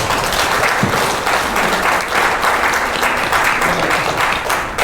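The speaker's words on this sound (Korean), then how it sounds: "그것을 위로하는 의미에서 박수를 한번 부탁드립니다" An audience at a Korean lecture on civilian government reform and the financial crisis breaks into full, steady applause, a dense wash of clapping lasting around five seconds, fairly loud and close, with no voices over it.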